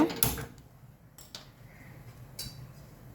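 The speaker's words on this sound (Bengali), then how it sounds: "চলুন বন্ধুরা আমি গ্যাসটা অন করে নেব" A kitchen gas stove knob turned on: a sharp click near the start, then a few softer clicks and metallic taps in a quiet room.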